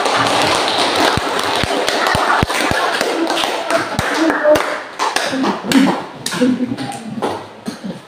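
A grade XI high school class claps in sharp, spaced beats, a patterned rhythm of distinct claps that gives way to talking and scattered taps toward the end.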